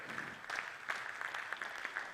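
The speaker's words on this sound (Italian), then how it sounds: "credo che meriti un applauso perché ha lavorato sodo" Faint, steady clapping from a distant crowd at a Sa Die de sa Sardigna concert in Sardinia rattles on for a couple of seconds with no voices over it.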